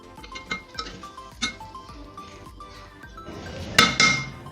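A spoon scrapes and knocks against a large cooking pot while rice for degi zarda is stirred, giving a string of irregular clinks and taps followed by a louder scraping burst near the end.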